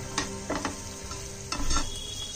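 Paneer, vegetables and green chillies are sautéed in a pan for chilli paneer. Close, crisp sizzling is broken by several sharp spatula scrapes and tosses at an uneven rhythm, with no talking.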